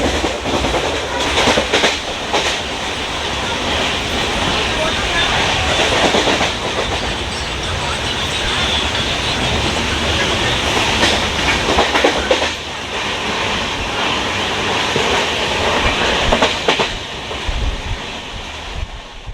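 Kolkata–Jammu Tawi express train rolling on rails, a steady loud rumble with rhythmic clickety-clack of wheels over rail joints and wind noise throughout, no talking.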